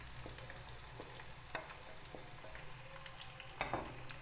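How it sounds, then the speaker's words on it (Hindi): Chopped onions and cumin seeds sizzle in hot oil in a pan for a desi chicken masala. The frying hiss is soft and continuous, broken by a few light clicks of a stirring utensil. "प्याज को 2 से 3 मिनट तक फ्राई किया"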